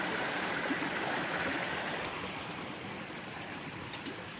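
Flowing stream water along the Appalachian Trail, a steady broadband rush and gurgle that stays close and even throughout with no voices.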